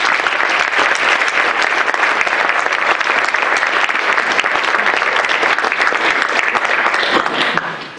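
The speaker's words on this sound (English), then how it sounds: "So applause for him and applause for our panelists this afternoon." An audience at a seminar applauds for about eight seconds, with steady, dense clapping that fades slightly at the very end.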